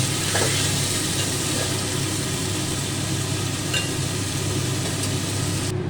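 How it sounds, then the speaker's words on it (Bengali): Small mourala fish frying lightly in hot oil give a steady, dense sizzle that runs unbroken throughout at moderate loudness, with no voices. "মাছগুলো ভেজে তুলে নিলাম, খুব কড়া করে ভাজলাম না, হালকা করে ভেজে তুলে নিলাম"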